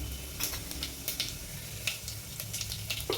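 Cumin seeds sizzle in hot oil in a home kitchen, a steady close crackle with sharp pops scattered throughout the few seconds and no talking.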